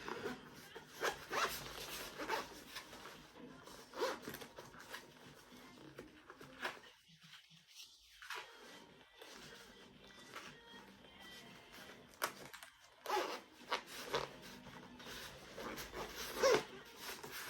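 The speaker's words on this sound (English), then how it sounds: "What you would do is obviously zip it up." A zippered case from an Amazon unboxing is zipped closed in a few quick rasping pulls, close and fairly soft, with pauses and handling noise between them.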